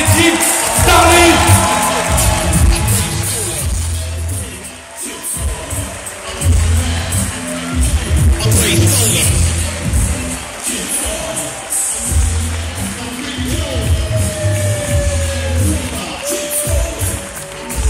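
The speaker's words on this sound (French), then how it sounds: "Applaudissez bien fort, s'il vous plaît, Jim Starlin!" A large crowd at Comic Con Paris 2019 applauds and cheers continuously, with whoops and shouts rising and falling over steady clapping; the noise dips briefly before swelling again.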